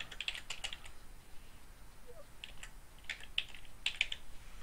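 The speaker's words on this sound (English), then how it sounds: "all I have to do up here at the top is type in Roger" Soft, close clicking of keys on a computer keyboard in short bursts of typing, quiet with a faint background hiss and no voices.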